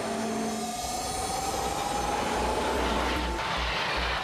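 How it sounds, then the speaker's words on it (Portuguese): Eurostar electric high-speed train pulling away, a steady rail rumble with rising motor whine and faint wheel squeal, heard alone with no talk. "este trem da Eurostar, que está de partida para a Disneylândia de Paris"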